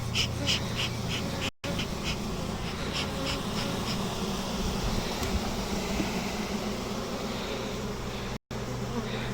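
Honey bees buzzing around hive frames during queen rearing, a continuous dense drone close to the listener with a few brief dropouts.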